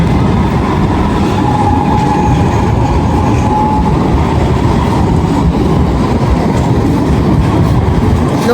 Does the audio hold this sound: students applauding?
no